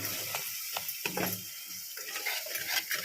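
A spoon stirring egg biryani mixture in a pan, soft scraping and clattering strokes at close range, quiet, with no one talking.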